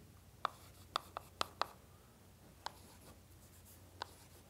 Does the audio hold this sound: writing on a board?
yes